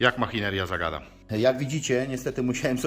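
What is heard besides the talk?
No everyday noise stands out behind the speech.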